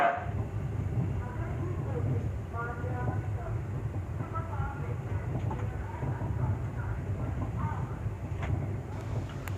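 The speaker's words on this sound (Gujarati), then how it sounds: "આપણી ટ્રેન છે અત્યારે જે અહેમદાબાદથી ડિપાર્ટ કરે છે" The Mahua Express departs Ahmedabad with a steady, moderately loud rumble of carriages rolling on the rails, faint clanks mixed in and people chatting nearby.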